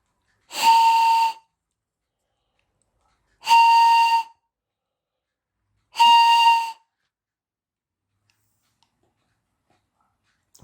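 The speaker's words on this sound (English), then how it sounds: "It's not the most exciting whistle I've ever seen, but yeah, that works." Homemade train whistle blown three times in evenly spaced, breathy tonal bursts about a second long each, clear and close with silence between.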